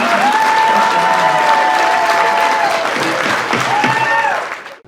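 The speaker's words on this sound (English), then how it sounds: "Just wait till the applause dies." A county supervisors meeting audience claps loudly and steadily, with voices and shouts mixed in, before the applause tapers off abruptly at the end.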